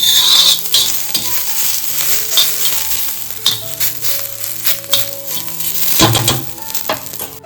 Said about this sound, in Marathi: पूर्ण तेलामध्ये फ्राय करायचं आहे